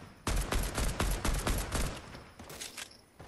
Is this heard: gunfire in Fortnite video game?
yes